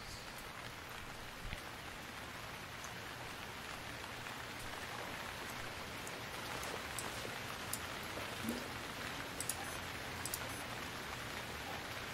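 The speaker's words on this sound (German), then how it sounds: "Es regnet, ja." Steady rain in the video game Stranded Deep patters on a surface, a soft continuous hiss with scattered louder drops, no voices.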